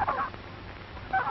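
A turkey gobbler on a 1930s poultry farm calls near the turkey yard fence, giving two short throaty bursts, one at the start and one at the end, over quiet farmyard background.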